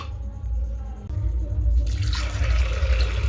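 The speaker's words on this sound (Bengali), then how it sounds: "এই দেখো জলটা দিয়ে দিলাম।" Water poured into a cooking pot of soaked dried peas: a loud, close, steady rushing splash that swells after about a second and carries on to the end, with no talk.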